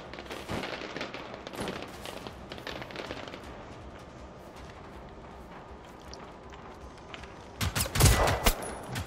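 Gunfire in the video game Generation Zero, scattered sharp shots and short bursts throughout, ending in a louder close volley as the player is hit.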